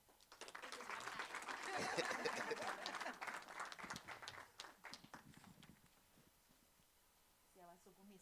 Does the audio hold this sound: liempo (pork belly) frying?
no